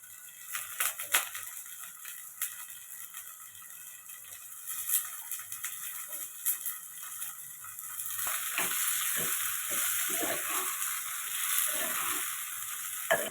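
Ridge gourd pieces sizzling and frying in a hot pan, with a steady bright hiss that swells after being stirred in, plus occasional scraping clicks of a spatula; no talking.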